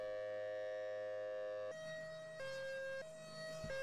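A tornado siren wails in a video game set in Dallas County, holding a steady tone that then steps between pitches a few times, sounding loud and sustained with no talk over it.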